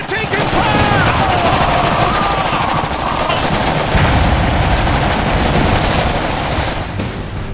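Battle gunfire in the Iron Harvest game, with rapid machine-gun bursts and rattling shots continuing loudly and densely over a rumbling low din, with faint voices mixed in.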